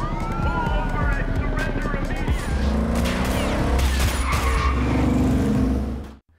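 Cars race and crash through a film chase scene, with squealing tyres, revving engines and a police siren, loud and dense throughout, overlaid by music and heavy impacts before the sound cuts off abruptly.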